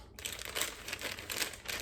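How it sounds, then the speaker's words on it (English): A plastic cookie package is snipped and crinkled open with scissors, giving soft, irregular crackling rustles close by and fairly quiet, with no talking. "we're gonna grab our scissors, and we're just gonna get this package of cookies opened up"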